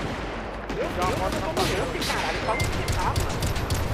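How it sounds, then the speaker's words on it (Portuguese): Gunfire in the video game GTA 5, roleplay in a Brazilian favela setting: rapid bursts and shots crackle over a loud, continuous noisy background throughout, with shouting voices mixed in. "Tá no meio do tiro"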